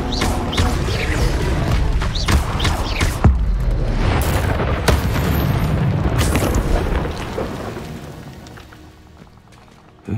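Fiery Confringo spell blast in the video game Hogwarts Legacy, a loud booming explosion with a sustained roaring rumble that slowly fades, layered with crackling bursts in a busy combat soundscape.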